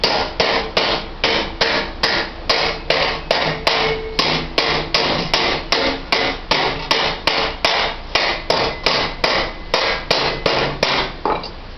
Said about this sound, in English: sometimes I'll hit on the side to get it to bend in easy